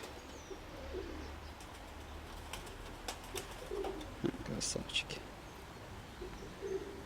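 Young pigeons in a loft make soft, low cooing calls with occasional wing flutters and chirps. The sounds are quiet and somewhat distant over a constant background hiss.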